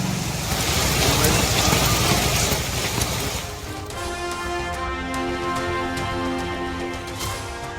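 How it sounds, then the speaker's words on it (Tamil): Heavy monsoon rain in Delhi hisses steadily for about three seconds, then fades under music with sustained tones. "டெல்லியில் பல இடங்கள் தண்ணீரில் முழுகிய பிறகும் நிற்காமல் பெய்து வரும் கனமழை."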